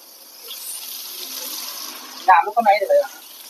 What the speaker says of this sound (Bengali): আলুটা ওয়াশ করে দে আলু ওয়াশ করে দাও